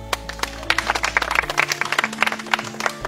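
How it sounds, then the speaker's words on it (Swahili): Audience applause and clapping from a gathered crowd at a school event, a dense run of claps that starts just after a low hum fades and carries on steadily for a few seconds. "Hata niwapongeze, mjipigie makofi."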